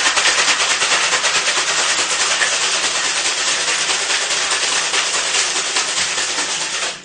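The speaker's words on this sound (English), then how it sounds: "So when shaking, I want to hear it sound like a maraca." Cocktail shaker packed with ice shaken hard and fast, a loud, steady, rattling maraca-like chatter that runs continuously up close and cuts off at the end.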